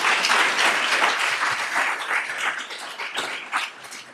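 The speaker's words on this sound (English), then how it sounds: "Can we have another round of applause for Chris," Audience at a talk on diabetes foot complications giving a round of applause for a speaker, dense sustained clapping throughout that thins slightly toward the end.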